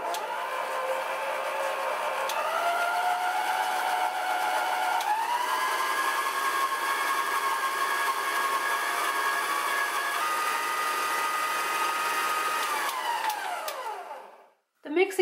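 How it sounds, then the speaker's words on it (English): A Hamilton Beach 63325 six-speed stand mixer beats white and brown sugar in a bowl, a steady close motor whine with a pitch step up partway through, then spinning down to a stop near the end. "The mixing head spins as the beater rotates inside the bowl."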